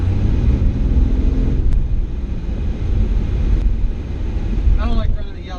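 A Porsche 911 Targa with a manual gearbox cruises in fifth gear, a steady low engine drone mixed with wind rush inside the cabin, with a brief voice near the end.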